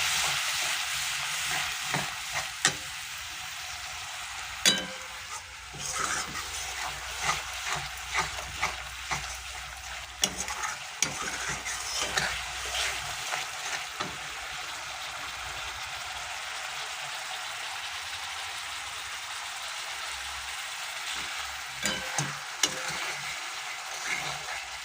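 Egg curry gets stirred in a pan after a splash of water, a steady bubbling sizzle under irregular scraping and clinking strokes of the spoon against the pan, fairly faint and continuous with no talking.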